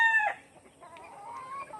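A rooster lets out a short crow, followed by low clucking from chickens nearby.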